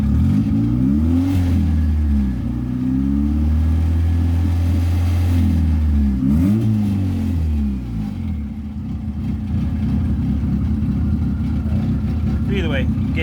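A turbocharged F23 Honda Accord engine, running lean, idles up close with a loud, uneven rumble. Its pitch swells and dips as the idle hunts, then steadies into a rougher, choppier note toward the end.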